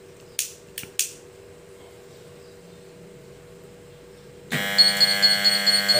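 A gas alarm panel set off with lighter gas: a few sharp mechanical clicks early on, then after a quiet stretch a loud, steady electronic alarm buzzer starts and keeps sounding with a pulsing tone.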